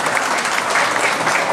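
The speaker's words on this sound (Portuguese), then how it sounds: "Uma grande salva de palmas." A crowd claps in steady, dense applause, loud and continuous throughout.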